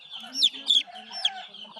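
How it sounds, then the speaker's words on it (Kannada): Chickens cluck in short, bright bursts, close and fairly loud, alongside small chicks being handled by a child at home, with a faint voice in the background. "ಇಲ್ಲೇ ಅದ ನೋಡಿ ಕೋಳಿ."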